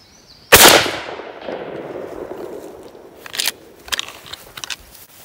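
A 12 or 10 gauge shotgun fires a turkey reload outdoors at a range. One sharp, loud blast rings out and its echo decays, followed by scattered faint clicks and rustling.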